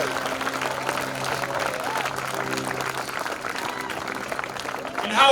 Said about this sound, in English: Can we give a round of applause to the people who are all the way in the back